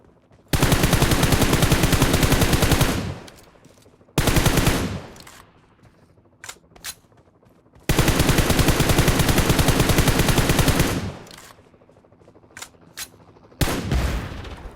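Automatic gunfire in PUBG Mobile: long, loud sustained bursts of rapid shots separated by short gaps with scattered single cracks between them, and no talking.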